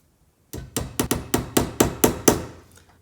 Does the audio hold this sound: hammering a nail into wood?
yes